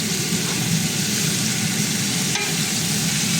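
Vegetables, cauliflower among them, fry in a pan for a home-style curry, giving a steady close sizzle with stirring throughout and no talk.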